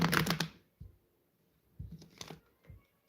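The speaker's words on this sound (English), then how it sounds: "that's how you shuffle them. You just want to make sure they slip through your fingers." A deck of cards is shuffled by hand, a dense burst of riffling up close followed by a few softer flicks and slips.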